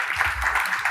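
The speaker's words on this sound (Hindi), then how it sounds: "तालियां।" Hands clapping in steady applause at a hospital health discussion event, a brief burst of moderate, continuous clapping with no voices standing out.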